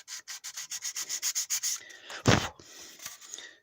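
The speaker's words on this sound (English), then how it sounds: "You take a piece of 320 grit wet dry sandpaper, sand over where you just sanded to make the sand scratches smaller" Hand sanding a plastic model car with 320 grit wet/dry sandpaper: a steady series of about a dozen quick rhythmic back-and-forth strokes, then a louder scrape and softer rubbing, close up with no talking.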